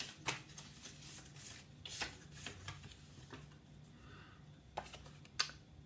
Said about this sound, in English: just trying to shuffle them and see if we can get anything out here